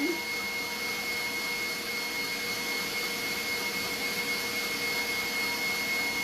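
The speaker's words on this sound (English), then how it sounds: "So I turned the mixer up a little bit," An electric cake mixer whirring at a higher speed, a loud, even, continuous motor drone with a steady high whine and no breaks.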